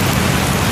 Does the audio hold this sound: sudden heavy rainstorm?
yes